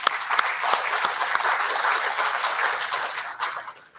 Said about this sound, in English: I think we need to give a round of applause for 10 years of doing this.